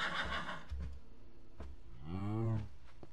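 A horse in Minecraft lets out a short whinny near the end, preceded by a few soft thumps and low game sounds, fairly quiet and close.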